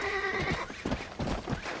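In the Red Dead Redemption video game, a horse being broken in gives a loud, drawn-out whinny, with hoof clops and scuffling under it, close and clear throughout.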